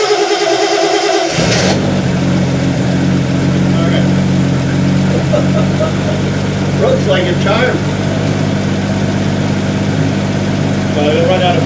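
A 1976 Triumph TR6 engine cranks briefly, then catches and runs with a loud, close, steady rumble and occasional uneven surges, with voices faintly audible underneath.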